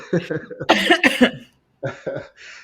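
A few harsh coughs and throat-clearing sounds, close and loud, in bursts with a short pause between them.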